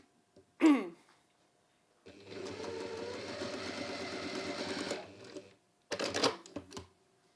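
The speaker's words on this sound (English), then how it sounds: "sew your pairs together to make your row of 4 blocks" A sewing machine runs steadily for about three seconds, stitching pairs of quilt blocks into a row of four for a Winding Ways quilt with curved seams, with short bursts of handling noise before and after.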